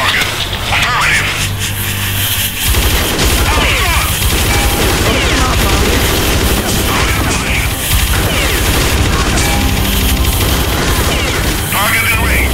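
Gunfire and explosions from the VR shooter game Riot make dense overlapping bursts and crashes that run throughout, heard loud under frequent voices and game radio chatter.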